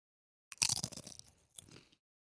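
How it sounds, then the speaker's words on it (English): Chips crunched right up close to a microphone: a loud, crackly burst of several rapid bites, then a pause and a shorter second crunch, with no talking. "And these are chips. They're crunchy."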